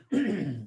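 A single short, harsh throat clearing from a podcast host right at the microphone, close and fairly loud, lasting about half a second.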